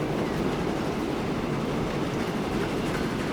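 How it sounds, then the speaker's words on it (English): Train passing in the rail simulation game Transport Fever 2, a steady dense rumble of rolling wagons at constant loudness throughout. "Oh, there is another train."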